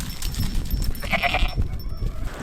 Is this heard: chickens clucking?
no